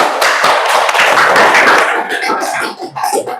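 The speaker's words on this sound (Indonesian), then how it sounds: "Tepuk tangan buat Rifti ya" A small class applauds a student presentation in a university lecture, with close, loud, irregular hand claps and taps that thin out toward the end.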